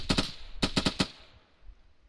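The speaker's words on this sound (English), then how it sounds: "I think we've got shots coming from the left." Incoming gunfire in a World War II airborne-division battle game: two quick bursts of rapid shots, the second a run of four sharp cracks, then a fading tail.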